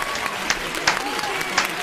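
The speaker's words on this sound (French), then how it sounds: "Ah oui, je crois qu'on peut s'applaudir" Small group of people clapping for themselves after setting a new heat record, a thin, loose patter of claps with a few louder hits, mixed with voices and cheers.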